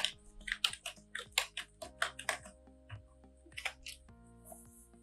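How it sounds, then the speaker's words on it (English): Keys clack on a computer keyboard during a Kali Linux install in a terminal, a quiet, irregular series of individual taps and short runs of keystrokes, close and alone. "And press Y on the keyboard."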